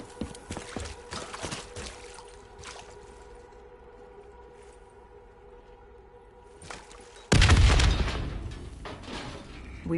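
An explosion goes off during a breach in Call of Duty Black Ops 3, a sudden loud broadband blast that decays slowly into rumble after a stretch of quieter background clatter and hum.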